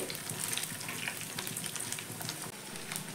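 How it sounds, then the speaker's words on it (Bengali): Snacks deep-frying in a pan of hot oil, a continuous close bubbling sizzle with soft crackles as the pieces are turned, with no talking. "এইভাবে উল্টে পাল্টে লালচে করে ভেজে নিতে হবে"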